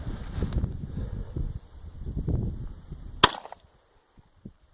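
A single unsuppressed shot from a .22 Colt 1911 pistol cracks out sharp and loud outdoors after a stretch of rustling handling noise, followed by near silence and a faint click.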